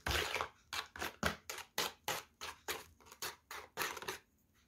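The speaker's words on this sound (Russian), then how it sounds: "И хорошо это все перемешиваю." Sour cream, egg, heaped sugar and a spoon of vegetable oil stirred together for cookie dough in a home kitchen: a steady run of about a dozen rhythmic scraping strokes in a bowl, close and moderately loud, with no talk.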